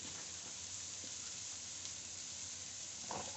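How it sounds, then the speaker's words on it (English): Green beans and Brussels sprouts stir-frying, a faint, steady sizzle with a few light stirring clicks and a brief scrape near the end. "right now it's getting stir fried"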